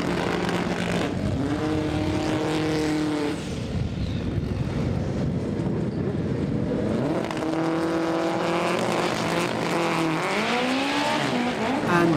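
Front-wheel-drive drag racing cars launch down the strip at Santa Pod Raceway, engines roaring and climbing in pitch through gear changes, loud and close, with a commentator's voice faintly underneath.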